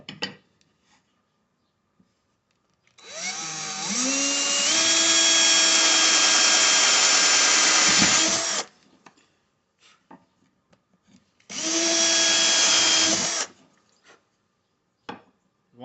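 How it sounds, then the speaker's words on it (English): A power drill bores a 1/8 inch hole into the end of a piece of wood in two whining bursts, a long one and a shorter one, close up with faint clatter between. "Now here what I'm doing is put an 1/8 inch drill right into the end."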